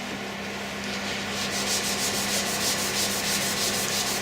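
Finish being rubbed by hand into a turned oak wand on the lathe, a steady close friction rasp that becomes a quick rhythmic back-and-forth rubbing pulse partway through, with no voices.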